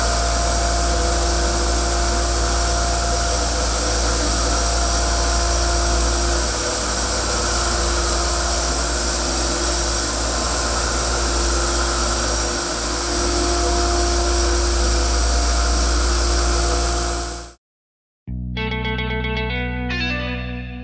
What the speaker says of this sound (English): We're gonna use the orbital sander to do this.